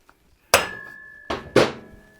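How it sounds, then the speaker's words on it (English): Three sharp metallic hammer strikes on a Harley axle, the first alone and the last two close together, each ringing briefly with a clear tonal clang before fading. "you can tap the axle out"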